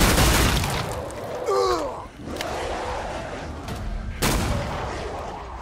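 Loud gunfire and explosive blasts from the video game Killing Floor 2, a dense roar with sharp bursts near the start and a big hit late, plus faint screechy creature cries mid-clip.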